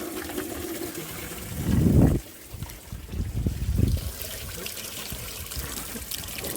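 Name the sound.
coolant draining from Jeep WJ thermostat housing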